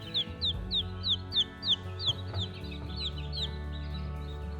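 Newly hatched baby chicks cheeping in a brooder, a run of sharp, high peeps in quick succession, loud and close, over a low background hum.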